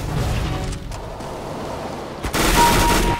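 A gun fires in CS:GO: loud, rapid shots crackle at first, then after a brief lull a dense sustained burst of automatic fire rings out close and harsh.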